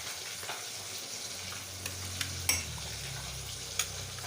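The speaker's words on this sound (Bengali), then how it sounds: "মাছটা ভাজা হতে থাকো" Fish frying in a pan gives a soft, steady sizzle and hiss throughout, with a few faint clicks and taps of a utensil and no talking.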